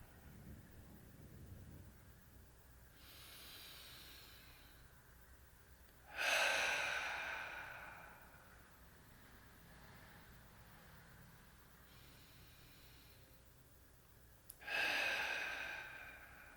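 Slow, deep breaths during a guided meditation session, with two long, soft exhales several seconds apart and quiet breathy air in between, close and gentle with no talking.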